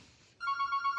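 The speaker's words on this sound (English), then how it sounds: "while we're waiting for the phone to stop ringing." Telephone ringing nearby, a rapid warbling electronic trill that starts abruptly and pulses steadily without voices.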